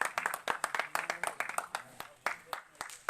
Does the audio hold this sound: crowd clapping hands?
yes